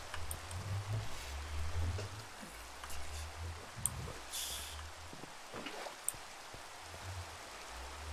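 Steady rain patters in a Minecraft modpack world, a soft continuous hiss of drops with faint scattered taps, heard alone at low level.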